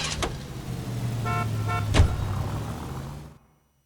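Car driving in the LA Noire video game, a steady engine hum with a couple of short horn-like toots and a sharp knock before it cuts to silence.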